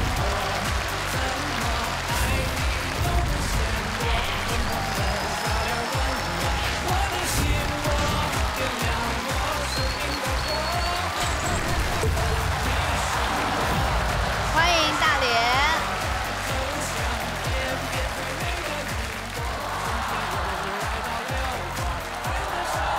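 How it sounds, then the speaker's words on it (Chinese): Studio audience applauding and cheering steadily on a game show as a contestant is welcomed, with a host's voice and music running through the sustained clapping. "让我们掌声有请"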